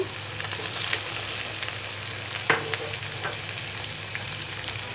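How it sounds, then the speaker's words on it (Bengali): Masala and tomato sizzle and fry in a pan with a steady crackling hiss, broken by a few sharper spits and stirring scrapes partway through. "মশলাটা একটু ভাজা হয়েছে, এবার এর সাথে টমেটো দিচ্ছি"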